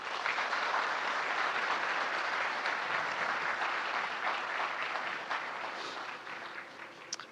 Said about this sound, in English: Let's give another big applause for them.